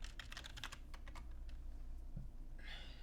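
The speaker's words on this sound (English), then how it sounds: "I'm going to type in GD launcher." Fingers tap out quick bursts of keystrokes on a computer keyboard, close and fairly quiet, with a short pause before a final clatter, alone over faint room hum.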